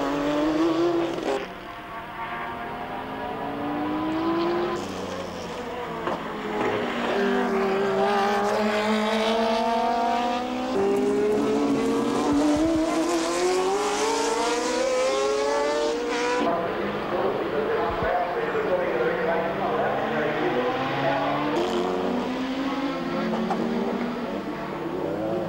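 Porsche race cars racing, engines rising and falling in pitch as they pass with a continuous loud roar and occasional tire squeal, a crash-filled motorsport scene with no voices.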